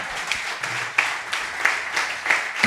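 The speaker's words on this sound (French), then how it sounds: "On l'applaudit une dernière fois." A radio studio audience claps after a comic musical segment, a moderate, steady patter of many hands with a few sharper individual claps standing out, no voices over it.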